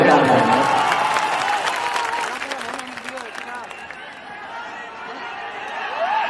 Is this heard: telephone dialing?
no